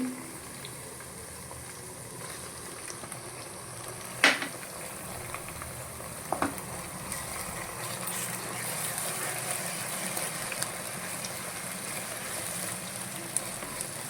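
Onion paste frying in a pan, a soft steady sizzle and bubbling heard up close, broken by a couple of brief sharp clatters, with no talk over it.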